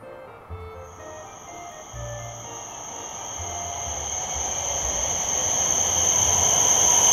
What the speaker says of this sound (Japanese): 反対側からはやぶさ号がやってきました。